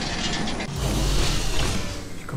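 A steady mechanical rumble and rattle of a descending elevator in the game Viscera Cleanup Detail, with a low droning hum and faint clanking, continuous for a couple of seconds.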